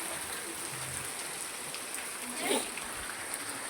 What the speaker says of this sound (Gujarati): આવો વરસાદ છે, ધોધમાં જાય છે પાણી